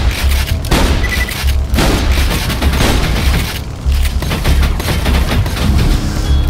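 Gunfire in Borderlands 2, played as the Siren on PC, with loud, repeated rapid bursts and heavy thuds running almost nonstop and no speech.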